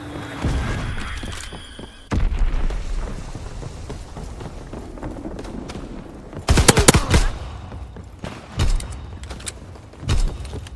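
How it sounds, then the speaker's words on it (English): Enemy bomb explosions and gunfire in Call of Duty WW2, with heavy rumbling blasts and sharp bursts of shots at irregular intervals, the loudest impacts clustered near the middle. "Enemy bomb incoming. Get to cover."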